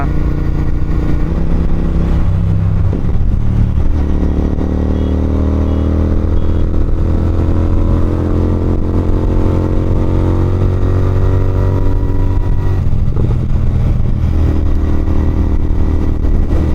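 A Royal Enfield Interceptor 650 motorcycle is ridden at a steady cruise, with a loud, continuous engine drone and wind rush throughout, and the pitch shifts slightly as the rider changes gear.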